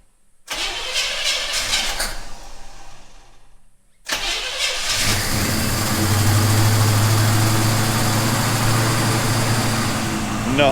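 A 1956 Chevy truck engine cranks, fires and catches after a brief pause, then settles into a steady, loud cold idle with a low rumbling drone up close.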